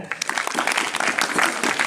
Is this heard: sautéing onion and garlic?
no